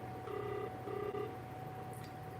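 A ringback tone on a phone line, two steady electronic rings with a pause between them, faint and heard through a low-volume handset.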